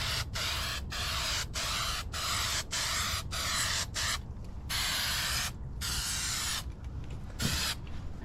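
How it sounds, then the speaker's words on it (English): 3M Super 77 spray adhesive hisses onto a 2019 Honda Africa Twin motorcycle seat pan outdoors in a series of close, even bursts with short pauses between, ending in longer broken sprays. "I'm just gonna spray down the pan and then fit the pad to the pan"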